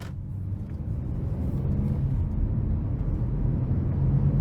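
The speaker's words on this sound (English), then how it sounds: "take this 2018 Honda Odyssey Touring out on the road for a quick test drive" A 2018 Honda Odyssey Touring minivan with a V6 and 10-speed transmission cruises on the road, heard from inside as a steady low rumble and road roar that slowly builds louder.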